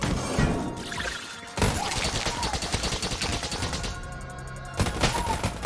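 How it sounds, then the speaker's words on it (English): Dense volley of gunfire from a triple-damage, ultra-large composite gun in Enter the Gungeon, rapid overlapping shots and crashes running continuously, loud and close, with game music and effects layered underneath. "the whole thing lags because it doesn't know how to do a triple damage, ultra-large composite gunshot"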